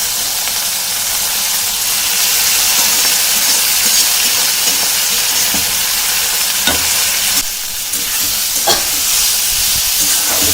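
Boiled leafy greens stir-fry in a hot pan, a loud continuous sizzle and hiss broken by a few sharp scraping stirs near the end, with no talking.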